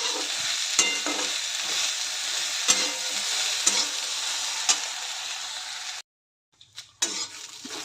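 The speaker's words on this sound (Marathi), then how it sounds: "भेंडी चांगलं एकसारखं हलवत चांगलं भाजून घ्यायचं आहे." Village okra sizzles steadily as it is stirred and dry-roasted in a pan, with periodic spatula clinks over the hiss. The frying cuts out briefly near the end, then resumes.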